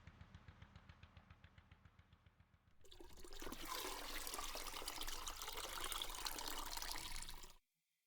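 Water runs into a bath from a tap, a steady close gushing rush that starts abruptly after a few seconds of soft rhythmic ticking and cuts off sharply near the end.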